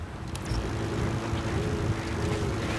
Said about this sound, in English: Helicopter's coming back